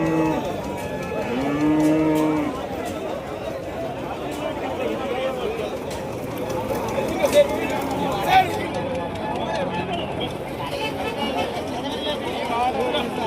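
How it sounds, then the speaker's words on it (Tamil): Native Kangeyam cattle moo repeatedly at a busy cattle market in Kundadam, with several low calls rising over constant crowd chatter and people talking nearby. "இங்க ஒரு நாட்டு மாடு இருக்கு."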